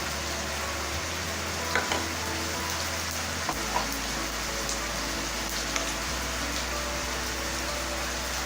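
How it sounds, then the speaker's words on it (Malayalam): Whole garam masala goes into hot oil: bay leaf, cinnamon, cardamom, cloves and cumin. A soft, continuous sizzle like light rain follows, with a few faint pops and stirring taps, fairly quiet and close. "ഇപ്പോൾ എണ്ണ നന്നായി ചൂടായിട്ടുണ്ട്. ഇനി നമുക്കിതിലേക്ക് ഹോൾ ഗരം മസാല ചേർക്കാം."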